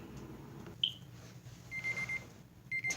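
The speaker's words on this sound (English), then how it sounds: "Timer's off." Kitchen timer beeping after baking a mug cake in the microwave, with two short electronic beep bursts sounding close and clear over a quiet room hum.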